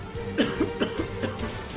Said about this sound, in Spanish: Tosiendo grandes cantidades de sangre desde su boca